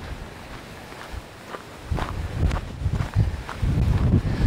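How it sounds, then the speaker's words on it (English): Wind gusts buffet the microphone with low rumbling bursts, growing stronger in the second half, with faint footsteps or rustling underneath. "And it is very windy"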